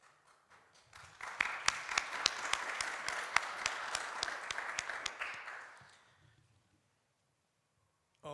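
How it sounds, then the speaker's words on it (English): An audience clapping after a video at a presentation event: sharp individual claps stand out above a dense patter of applause that builds, holds for several seconds, then fades away into silence. "we were clapping hands here, if you didn't hear"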